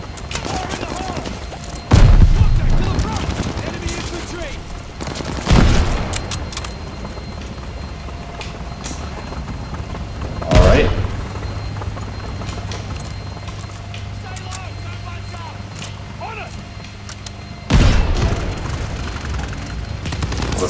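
Grenade explosions in Call of Duty Vanguard, four heavy booming blasts spaced several seconds apart over continuous in-game battle noise and rumble, loud and close.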